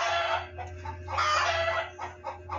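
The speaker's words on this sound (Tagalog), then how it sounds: "Parang mabuang yung manok na yan guys." Chickens cluck and call in a rural yard in Palawan, several bursts of hen-like clucking in a close, busy flurry over a steady low hum, with no talking.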